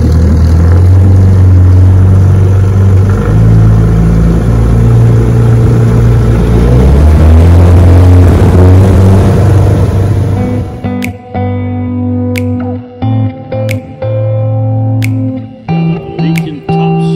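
A 1966 Johnson 9.5 HP outboard motor with a freshly repaired leaking gearcase runs loud and steady for about ten seconds, then cuts out, leaving a few sharp clunks and short bursts of low engine noise.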